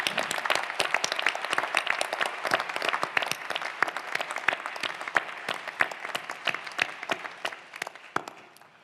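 Sustained applause from a seated crowd at a new lawyer induction ceremony, dense steady clapping for nearly nine seconds with a few sharper nearby claps standing out, fading slightly toward the end.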